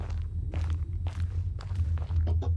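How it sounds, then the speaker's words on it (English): A big, heavy footstep in a horror video game lands as a dull low thud over a constant low rumble, with a few scattered softer knocks and scrapes around it. "I just heard a big footstep."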